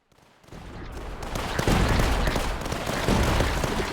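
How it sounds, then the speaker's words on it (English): Cannon fire in the Tower Dominion video game, a rapid barrage of booming shots and explosions that builds from quiet to a loud, dense, continuous rumble of blasts. "Oh, look at that cannon go, dude."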